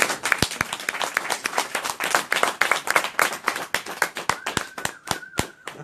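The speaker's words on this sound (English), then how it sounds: "Nice round of applause for them." Audience claps for drug-free world ambassadors at an event, a fairly sparse round of individual hand claps, close and distinct, fading toward the end.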